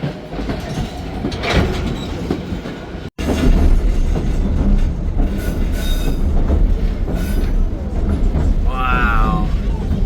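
A White Pass & Yukon Route train with an old caboose rumbles loudly and steadily on the rails nearby, with clattering wheels and a squeal near the end.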